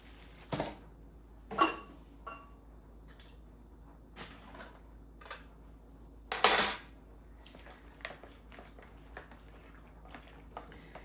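A spoon stirring freezer-meal ingredients, spaghetti sauce, pre-cooked hamburger and green pepper, in a metal pot, giving sparse sharp clanks and scrapes against the pot at irregular intervals, close and fairly quiet, with no talking.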